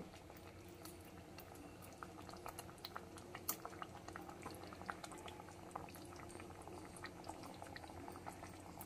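Koi fish curry bubbles steadily in a pan over a medium gas flame, a dense continuous boil with frequent small pops and sputters throughout, moderately close and with no talking.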